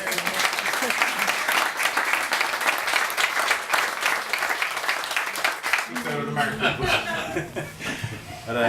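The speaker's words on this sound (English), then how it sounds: "I think a round of applause." An audience in a restaurant applauds a celebrity chef's menu with dense, lively clapping mixed with chuckles. The applause gives way to people talking over the fading claps.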